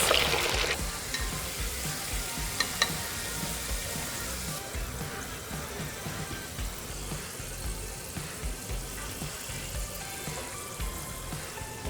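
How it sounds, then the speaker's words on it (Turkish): Matchstick potato fries frying in hot oil give a steady, dense sizzle throughout, close and fairly loud, with occasional bubbling pops and stirring clatter near the start and no talk. "Şimdi kibrit patatesleri de atıyorum."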